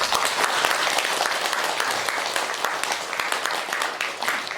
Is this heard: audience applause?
yes